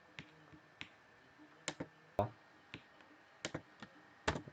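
Sharp, sparse clicks from a computer keyboard and mouse while code is copied and pasted, a few isolated taps with gaps between them, close and fairly quiet against a faint hum.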